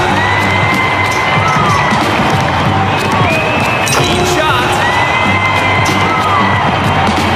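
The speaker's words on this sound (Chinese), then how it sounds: "哇，还有尖叫声，有意思。" Crowd cheering and screaming with whoops and shouts from an all-in-one VR sports video game, a loud, continuous wash of spectators across the whole stretch.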